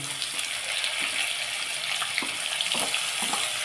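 Finely chopped onion sizzling and frying in a pan over cumin, a steady close hiss with faint scraping, no one talking.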